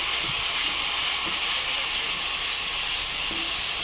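Spices sautéing in a pan for chicken kosha, with cumin, chilli and turmeric powder and sugar just added, producing a loud, steady sizzling hiss throughout.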